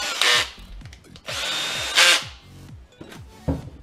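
A Parkside cordless hammer drill driver from Lidl runs in short bursts, its motor whining up, dropping and revving again several times close by, with no talking.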